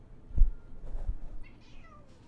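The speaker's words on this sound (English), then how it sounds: "video posted with no explanation of his cat meowing at something off camera, looking petrified" A frightened house cat meows repeatedly at something off to one side, a few plaintive cries close by over a quiet room background.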